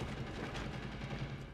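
Rapid, continuous gunfire from the Rainbow Six Mobile video game, dense overlapping shots rattling on without pause, loud and close with no talking.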